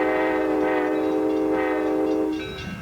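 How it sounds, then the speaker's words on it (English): An Amtrak San Diegan passenger train runs along the California coast, its horn blaring in a long, loud, steady chord over rolling rail noise before the blast cuts off and the train rumbles on. "Amtrak San Diegan makes its spectacular run along the California coast on a longer track these days"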